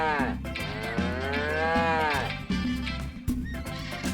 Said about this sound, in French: Une vache, bien sûr.